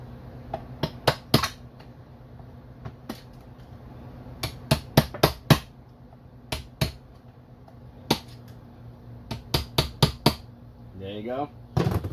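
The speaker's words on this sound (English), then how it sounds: "take a little hammer again." A small hammer taps repeatedly on a transmission part during a teardown, giving sharp metallic strikes in irregular clusters, some in quick bursts and some spaced apart, over a low steady hum. A brief rattle comes near the end.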